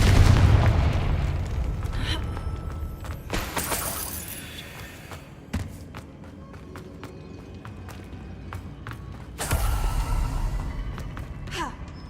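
Confringo spell explosions in the video game Hogwarts Legacy, a heavy boom at the start followed by several sharp blasts and crackling bursts scattered over the span, with a brief spoken voice.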